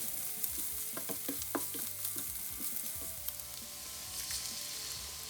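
Onions sauté in a pan with turmeric and chili powder, a soft steady sizzle with light stirring clinks and scrapes, fairly quiet with no talking.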